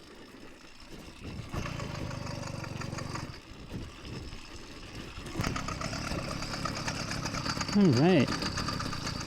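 An LA Hover Bikes Phantom 85 hover bike engine with the choke on sputters and catches, its rough mid-pitched running building in loudness toward the end, with someone speaking briefly.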